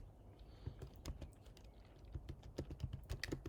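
Rapid keystrokes on a computer keyboard as a file-removal command is typed, an irregular run of close, crisp clicks with no talking.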